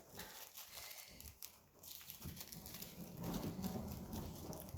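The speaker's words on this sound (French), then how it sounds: "Il y a le gros coup de tonnerre." Heavy rain falls steadily throughout, with a deep rumble of thunder swelling in the second half and staying loud; no one speaks.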